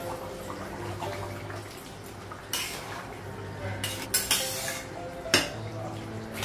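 A metal lid lifted off a pot of goat meat curry on a gas stove: a few sharp clinks and clatters stand out against a steady low kitchen hum.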